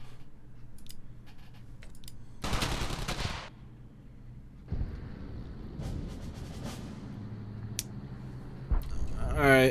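Gunfire in the war video game Brothers in Arms: Hell's Highway, with loud rapid bursts of automatic fire separated by quieter stretches of clicks and single shots, and another burst at the very end.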